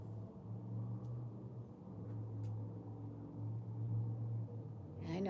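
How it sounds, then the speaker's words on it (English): A muscle car's engine rumbles low and steady outside, heard faintly through walls, with its deep tone swelling and easing in surges as it revs. "I hear like a muscle car out there revving their engine."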